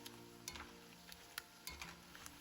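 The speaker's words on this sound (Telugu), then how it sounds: "అందుకే మీడియం ఫ్లేమ్‌లో మాత్రమే ఈవెన్‌గా ఫ్రై చేసుకోవాలి." Chicken pieces deep-frying in oil over a medium flame, a steady bright sizzle with a few sharper crackles and utensil scrapes scattered through, close and continuous with no talking.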